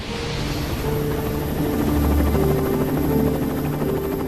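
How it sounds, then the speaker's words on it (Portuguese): Rescue helicopters fly toward a plane crash site, their rotors making a steady, loud, droning thrum that holds for a few seconds with no voices. "Demora 3 horas para os helicópteros de resgate chegarem."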